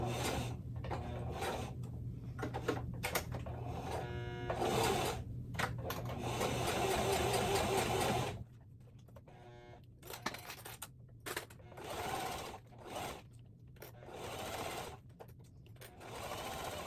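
A sewing machine runs top stitching and edge stitching along a tote bag in quick bursts of rapid mechanical stitching, separated by short pauses, close and moderately quiet.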